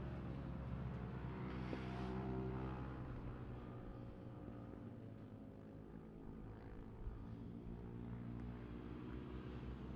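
Quarter midget race cars with two-engine power plants, including the Honda 200, drone in a steady, faint, distant engine hum. The pitch shifts slightly as the cars circle the track.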